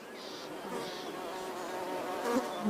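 Insects buzz steadily around a blooming flower in the wild, a continuous close drone of bees, wasps or flies that swells and fades as they pass.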